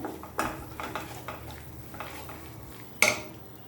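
Mashed taro leaves stirred and fried with onion and garlic in a pan on the stove: a metal spoon scrapes and clinks against the pan in an irregular rhythm, close and clear, ending with one sharper knock.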